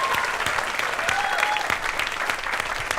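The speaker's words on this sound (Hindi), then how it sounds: "एक ताली हो जाए" Audience applause at a comedy show, dense steady clapping lasting throughout, loud and close, with a faint cheer or voice mixed in.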